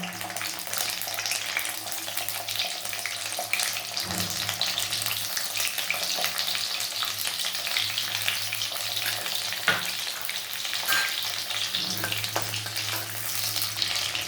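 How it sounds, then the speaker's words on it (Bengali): Bay leaves, whole garam masala, cashews and raisins fry in hot oil in a pan with a steady hiss and sizzle, stirred now and then, with no talking. "গোটা গরম মশলা, কাজু বাদাম, কিশমিশগুলোকে একটু ভালো করে নেড়ে নেব।"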